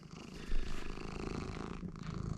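A lazy pet cat purrs steadily and close up in a rhythmic low rumble, continuous and fairly loud, with no talking.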